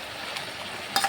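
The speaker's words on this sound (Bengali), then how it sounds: "এখন এরপরে মাছের মাথাটা দিয়ে দিলাম" A fish head goes into a pan of vegetables, giving a soft steady sizzle with a brief scrape or clatter near the end.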